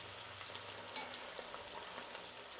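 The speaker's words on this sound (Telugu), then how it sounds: "ఇది కూడా అంతే అండి, వేసినప్పుడు ఇంత నురుగు వస్తుంది, వేగిపోయిందంటే నురుగు తగ్గిపోతుంది." Field bean mixer batter frying and foaming in hot oil, a steady dense sizzle that holds evenly close up and alone.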